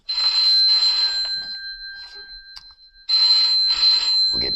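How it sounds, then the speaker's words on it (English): Telephone bell ringing in two loud, close bursts of rapid trilling, separated by a pause of a couple of seconds with a faint lingering tone. "we'll get the phone."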